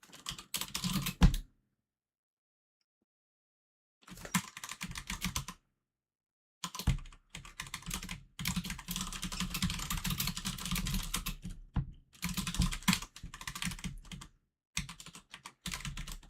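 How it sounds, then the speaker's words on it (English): Rapid clattering keystrokes on a computer keyboard come in several dense bursts separated by pauses of silence, close and fairly quiet. "And we can actually type this out."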